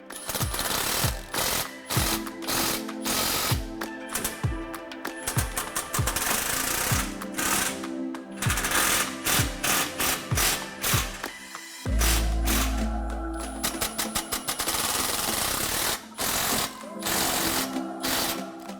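A ratchet repeatedly clicks while tightening 15mm bolts on an exhaust clamp of a Jeep Gladiator with an MBRP stainless cat-back exhaust, bursts of rapid close clicking with short pauses and a brief low mechanical hum partway through.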